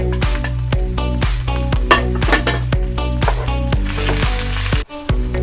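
Vegetables for chow mein stir-frying over a high flame, a loud constant sizzle with rapid metallic clanks and scrapes of a spatula against the pan, close and busy.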